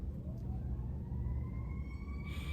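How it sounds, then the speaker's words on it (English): Distant sirens wail outside, rising tones sweeping slowly upward over a steady low rumble of traffic, faint and continuous throughout. "sirens are going off"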